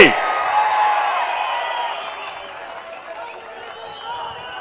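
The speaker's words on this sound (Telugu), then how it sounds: "గట్టిగా చప్పట్లు కొట్టి హర్షాన్ని, ఆమోదాన్ని తెలియజేయాలి" A large crowd at an outdoor political rally in Kanigiri bursts into cheering and clapping that starts loud and gradually fades over several seconds.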